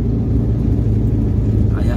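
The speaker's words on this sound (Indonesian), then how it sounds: "Ini masuk gigi 2 ya teman-teman." An older Suzuki Karimun with freshly replaced piston rings climbs a steep mountain road in second gear, heard from inside as a steady, loud, low engine drone while a voice talks over it.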